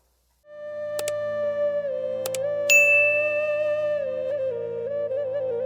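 A bright notification bell chimes several times over a sustained soft tonal bed, with sharp ding strikes near the start and a higher ringing tone in the middle, clear and close.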